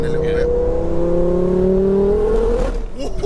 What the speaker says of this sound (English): do a little third gear pull just to feel the boost coming a little bit